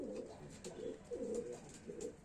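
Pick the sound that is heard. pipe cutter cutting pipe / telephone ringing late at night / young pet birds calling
young pet birds calling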